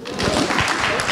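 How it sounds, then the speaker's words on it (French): Brief burst of audience applause at a French panel gathering, dense and continuous clapping from a crowd at close range, mixed with voices. "On peut l'applaudir très fort"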